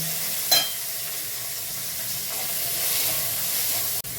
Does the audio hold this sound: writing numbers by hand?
no